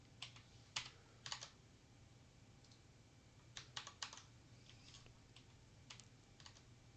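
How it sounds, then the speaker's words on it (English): Loud computer keyboard being typed on, irregular clusters of crisp clicks in short flurries against a steady low hum, fairly faint and nearby. "That's a pretty loud keyboard, isn't it?"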